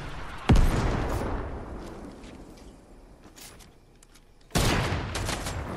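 Rocket fire in the video game Fortnite: two sharp blasts about four seconds apart, each with a hard onset and a lingering rumble, with scattered smaller game effects between them.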